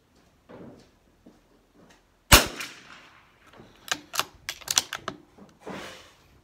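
Lakefield 91TR rifle fired at a shooting range: one sharp, loud crack, followed by a quick run of smaller pops and clicks, with quiet pauses in between.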